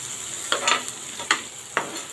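Onion, chili, carrot, tomato and ginger sizzle steadily in a frying pan while a utensil stirs them in four or five quick scraping strokes, close and fairly quiet.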